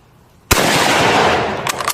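A Kar98 bolt-action rifle fires one loud, sharp shot outdoors at a steel plate target, the crack followed by a long rolling echo and then a few faint clicks.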